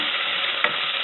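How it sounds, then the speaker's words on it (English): Garlic and chili sizzle in oil for pork adobo, giving a steady, close, bright hiss with one brief stir or spatter near the middle. "We're gonna infuse the garlic"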